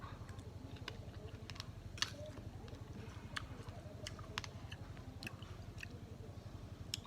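Sour mak mao (bignay) fruit being chewed close up, a steady run of soft, wet crunchy bites and mouth sounds with a few sharper clicks, no talking.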